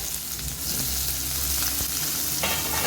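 Mustard seeds, green chilies, half an onion and garlic sizzle steadily in hot oil for tempering spinach, a continuous close crackle with a brief stir near the end, no voices.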